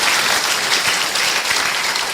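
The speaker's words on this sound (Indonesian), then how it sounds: "Oke, kita kasih aplaus dulu ya." An audience at a church debate between Calvinists and another congregation applauds, a dense, steady burst of clapping throughout the short moment.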